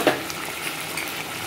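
Onion stalks frying in a kadai, a steady soft sizzle running the whole time with a brief stir or clink near the start, close and even, no voices.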